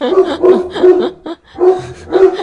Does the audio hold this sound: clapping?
no